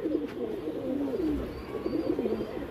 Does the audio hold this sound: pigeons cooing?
yes